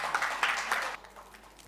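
An audience at an Onam celebration public meeting claps to welcome a speaker: faint, distant applause that fades out after about a second.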